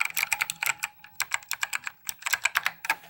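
Rapid, irregular keystrokes on a keyboard with Green Alps switches, each press a crisp, close click in quick uneven bursts with brief pauses, and no voices.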